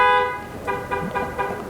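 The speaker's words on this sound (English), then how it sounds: "Now we got a car horn going off." A car horn honks outside in a few short toots, fairly faint and distant, with no talking over it.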